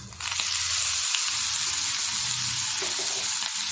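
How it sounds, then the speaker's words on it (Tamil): Grated coconut sautéing in a pan for tomato chutney, a loud continuous close sizzle with occasional stirring scrapes, no voices. "தேங்காயோட பச்சை வாசம் போகிற அளவுக்கு நல்லா மிக்ஸ் பண்ணிவிட்டு வதக்கிக்கலாம்"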